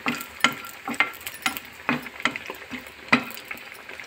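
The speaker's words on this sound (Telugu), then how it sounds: "ఇందులో కొద్దిగా కొబ్బరి ముక్కలు వేసి కొద్దిగా లైట్గా దూరగా వేయించుకోవాలి" Coconut pieces frying lightly in a pan for a fish fry masala, giving a steady soft sizzle broken by small crackles and pops that recur every half second or so, close and moderately loud, with no voices.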